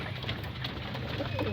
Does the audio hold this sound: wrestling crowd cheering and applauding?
no